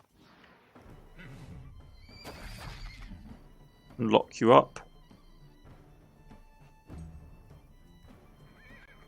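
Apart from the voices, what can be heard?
horse neighing and hooves in the video game Wartales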